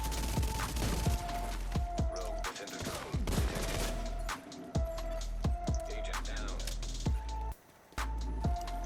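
Player-versus-player gunfire in The Division 2 arrives as dense, loud bursts of rapid shots over a steady game hum, with a brief lull near the end.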